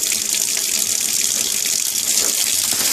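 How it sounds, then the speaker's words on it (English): Hot oil from a pan of baked baby back ribs pours into a kitchen sink as a steady, close, hissing stream, heard alone with no talk. "drain that oil into the sink, as you see"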